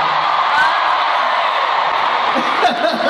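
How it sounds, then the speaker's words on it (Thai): A concert audience at an RS Meeting alumni reunion show screams loudly and continuously, a bright sustained roar of voices that dips slightly near the end. "เสียงกรี๊ดดังอย่างนี้"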